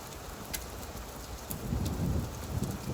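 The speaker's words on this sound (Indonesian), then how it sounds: "Bu, hujan es. Masya Allah, kebayuran hujan es." Steady rain with hail rattling on a surface, building louder in the second half, with thunder rumbling low beneath it and a few sharp impacts standing out; no voices.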